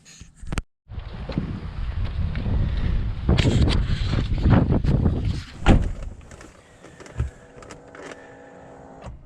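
Blustery cold wind outdoors buffets the microphone in uneven roaring gusts, with a brief silent gap near the start and scattered knocks and clunks as it gradually dies down.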